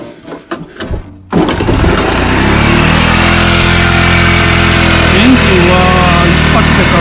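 A Honda CB motorcycle engine starts after some brief handling noises, then runs with a loud, steady close-up idle and a slightly uneven rumble.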